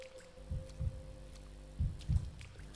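A low thumping heartbeat effect in a scary video game, two double-thump beats about a second and a half apart, faint and muffled under a steady low hum.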